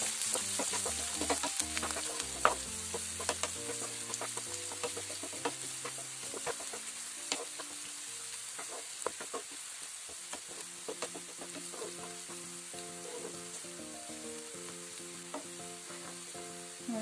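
Fried garlic, garlic paste and curry leaves sautéing in oil for a homemade garlic pickle, a quiet continuous sizzle with scattered crackles and stirring clicks, steady over a long stretch with no talking.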